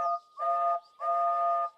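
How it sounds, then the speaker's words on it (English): Steam engine whistle from an animated railway show, two sustained tonal blasts with a short gap between, clear and prominent, no talking. "he heard a familiar whistle."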